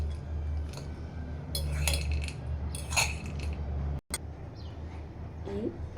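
Cutlery scrapes and clinks in a bowl as a salad with mint leaves is tossed, with intermittent rustling strokes and light clicks over a low background hum and a brief dropout.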